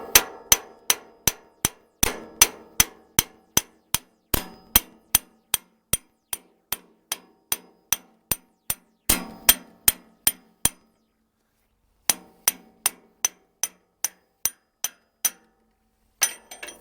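Steady metallic hammer blows drive a stuck pin on a Troy-Bilt Horse tiller downward, sharp close strikes in a regular rhythm with a few brief pauses, ringing with a slight clink.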